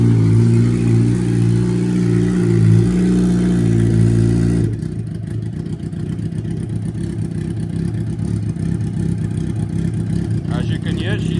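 A car with a failed clutch idles steadily, a low rumbling hum that shifts partway through into a rougher, clattering mechanical drone, fairly loud and close throughout.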